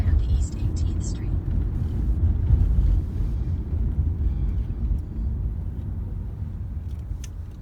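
A car drives along city roads toward a hotel in Alhambra, California, its steady low engine and road rumble mixed with wind noise running throughout.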